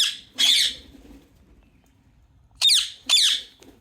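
Ringneck parrot, a non-native bird in Australia, giving harsh, shrill squawks close by: one call near the start, then two more in quick succession after a pause, with faint background noise between.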